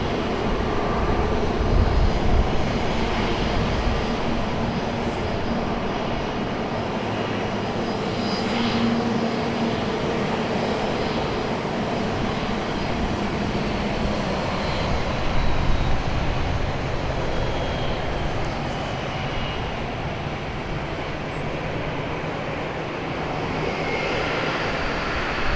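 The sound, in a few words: JetBlue Airbus A220 airliner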